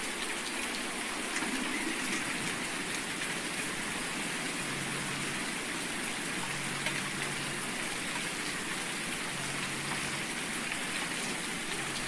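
Rain in the Farming Simulator video game: steady, dense rainfall hissing evenly throughout, moderately loud and unbroken, with a faint low hum underneath and no talk.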